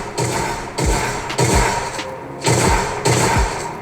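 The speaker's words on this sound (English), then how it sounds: "Shotgun, no turbo. One shot per click." Shotgun in a video game fired in single shots, one per click with no turbo: five loud, booming blasts at a steady, roughly even pace, each with a short ringing tail.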